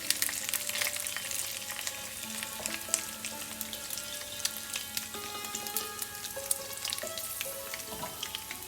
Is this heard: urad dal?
yes